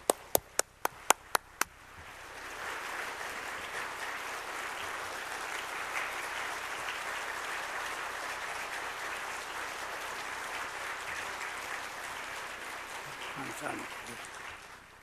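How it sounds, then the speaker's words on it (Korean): A church congregation at a 2015 New Year blessing revival gives sustained warm applause after a few sharp opening claps, the dense clapping filling most of the clip at steady volume before thinning near the end. "나오실 때 우리 뜨거운 박수로 환영하며 말씀을 받도록 하겠습니다"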